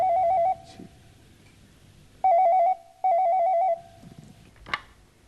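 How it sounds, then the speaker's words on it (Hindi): A telephone rings in a Hindi TV serial scene, three warbling electronic bursts separated by pauses, loud and close, with faint background sounds between rings. "हिम्मत देखो तो किसका फोन।"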